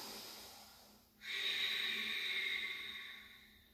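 Long, deep inhalation during a chair-supported yoga breathing exercise, a steady airy hiss that swells after a quiet start and holds for a couple of seconds, close and fairly soft.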